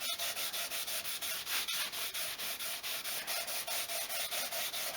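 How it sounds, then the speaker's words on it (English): Pallet wood being sanded by hand with 240 grit sandpaper, a steady rhythmic rubbing of about four strokes per second, close and continuous with no talk. "Smooth that side down with the 240."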